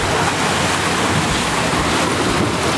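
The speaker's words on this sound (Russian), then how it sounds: "Через сквозь эту реку." A Mercedes 124 E-class fords a river in Africa, a loud, constant rush and splash of water churning around the car, close and unbroken with no talk.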